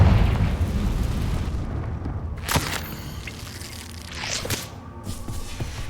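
A Confringo spell explosion in Hogwarts Legacy, a fiery burst with a rumbling, crackling tail over steady game ambience, followed by a second, softer blast.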